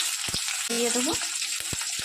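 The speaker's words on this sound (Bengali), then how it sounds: "ফুলকপি সর্ষের তেল দিয়ে একটু তেজপাতা আর একটু জিরে ফোড়ন দিয়ে একটু পেঁয়াজ দিয়ে দেবো" Onion, bay leaf and cumin seeds fry in mustard oil in a pan, giving a steady close sizzle broken by sharp clicks of stirring, while a voice speaks briefly over the cooking.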